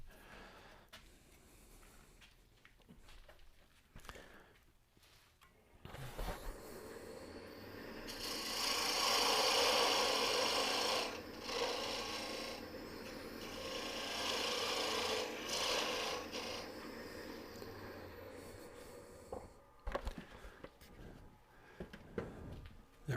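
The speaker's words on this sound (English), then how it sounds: "I'm actually gonna turn that one down real quick." A steady rasping, scraping whir of a lathe tool cutting into spinning wood while turning a coffee scoop, building and holding for several seconds before trailing off into quieter clicks.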